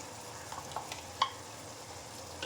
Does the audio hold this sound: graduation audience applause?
no